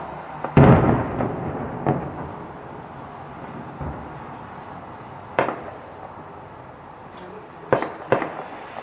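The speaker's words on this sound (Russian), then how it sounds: "Ну, еще взрыв." A heavy explosion booms out early, followed by a few fainter, scattered pops and thuds in a quiet, open setting.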